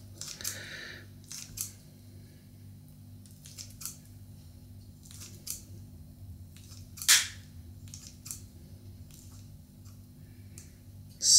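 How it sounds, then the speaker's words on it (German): Kitchen scissors cutting through mozzarella while a meal is prepared, several short snips spaced irregularly over a quiet room hum, close by, with one sharper click near the middle. "ich schneide den jetzt hier mit der Schere"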